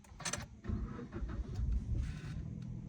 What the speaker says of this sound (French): on la démarre tous ensemble, donc pied sur l'embrayage